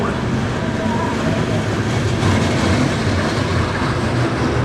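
The Hornet roller coaster train at Flambards Theme Park rumbles along its track in a loud, continuous roar, with a broad noisy wash that holds steady throughout.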